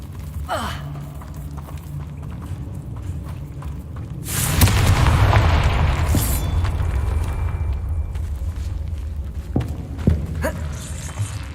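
A Confringo fire spell cast in Hogwarts Legacy erupts in a loud, rumbling blast that swells midway and lingers as a roaring burst, with softer thuds and footstep-like taps before and after.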